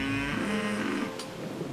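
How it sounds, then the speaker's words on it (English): A cow moos in a wet field, one long low call that starts strong and then trails off under faint rustling and outdoor background noise. "I don't like the way that cow's looking at us."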